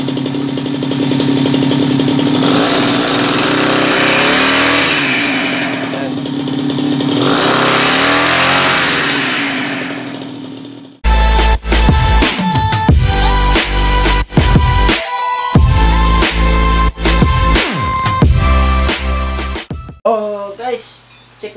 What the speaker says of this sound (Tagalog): Ito ay 49cc na 2 stroke engine.